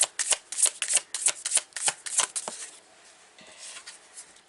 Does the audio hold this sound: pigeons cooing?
no